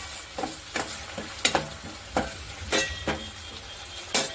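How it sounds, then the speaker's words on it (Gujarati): Okra gravy with crushed peanuts is stirred in a pan, giving a series of distinct close scrapes and clacks of a spoon against the metal, roughly one every half second, over a soft background sizzle. "તો આ રીતે સિંગનો ભૂકો એડ કરી સારી રીતે મિક્સ કરી લઈશું।"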